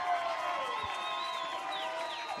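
Steady crowd noise with cheering voices at a high school boys lacrosse game, Roslyn versus Manhasset, a continuous wash of spectators with whistle-like tones rising over it.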